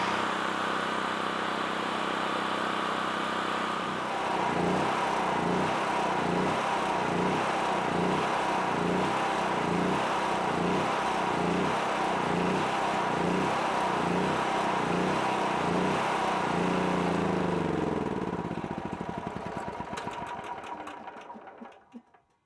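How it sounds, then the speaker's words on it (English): Steady running of a Generac XT8000E portable generator engine, fuel shut off so the carburetor drains; a loud, even close drone that falters and dies away at the end as the motor starves. "I turn the fuel off and let the carburetor drain down and choke out"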